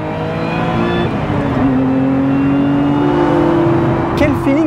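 A Lotus Emira sports car drives along with a steady engine drone and a gear change partway through, heard from inside the cabin, with speech over it.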